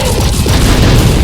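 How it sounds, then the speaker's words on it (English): A Catastrophe Cannon attack from the video game Digimon Story Cyber Sleuth booms loudly and densely, a rumbling barrage of blasts that rolls without pause for over a second. "Catastrophe cannon does a big number of damage."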